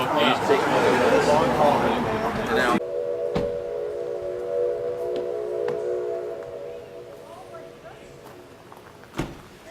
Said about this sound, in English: That's the Felton train, steam train.